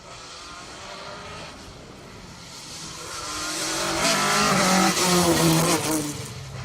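A Ford Escort rally car on a closed asphalt stage of the Argyll Rally, its engine note rising and growing louder as it approaches and passes, with no talk over it.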